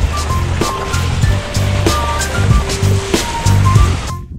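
Stream water splashing and gurgling as people wade across in the Chihuahua Desert, a continuous close wash with irregular sloshing steps and some faint tonal sounds over it.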